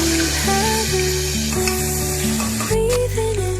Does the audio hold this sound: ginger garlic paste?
yes